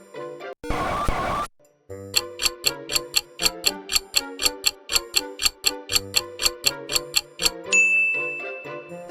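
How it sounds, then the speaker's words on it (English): Brake sound effect from the Paperboy arcade video game: a short noisy burst, then a steady run of bright, evenly spaced electronic dings and ticks, loud and alone. "it's the sound from Paperboy when you hit brakes to dodge those pesky obstacles that pop up out of nowhere"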